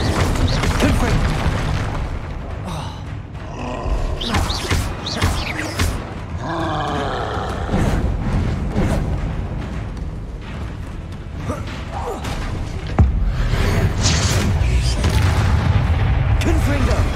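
Confringo fire spells explode again and again in the Hogwarts Legacy video game, a dense run of heavy booms and roaring blasts that stays loud and continuous, with a few grunts mixed in.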